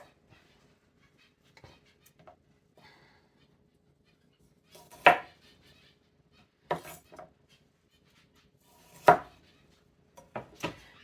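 Knife cutting a bell pepper in half on a board in a quiet kitchen, with a few sharp cuts and taps spread out over the clip.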